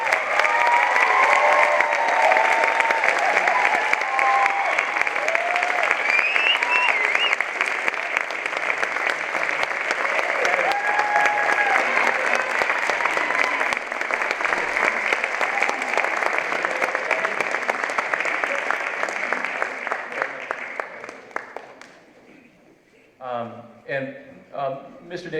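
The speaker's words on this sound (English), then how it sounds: "Would you please give them a wonderful round of applause?" Sustained audience applause with some cheering fills a school spring concert hall for the graduating class of 2016 symphony band seniors, loud and steady for about twenty seconds before fading out into scattered claps.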